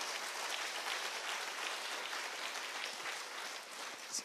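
A church congregation applauds during a Sunday worship service, a steady, dense wash of clapping from many hands filling the room, holding evenly before easing slightly near the end.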